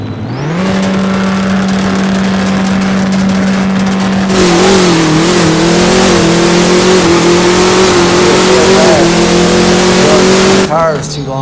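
A drag racing car from No Limit Drag Racing 2.0 revs loudly and steadily as it speeds up toward the line. After a few seconds the engine climbs to a harsher, higher roar and holds there before cutting off.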